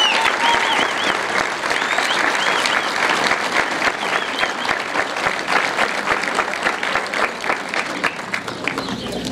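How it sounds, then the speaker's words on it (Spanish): A room full of people claps for someone thanked at an agricultural school tasting event, a dense, steady round of applause lasting several seconds with a slightly irregular pulse. "un gran aplauso para Alberto Aldecoa"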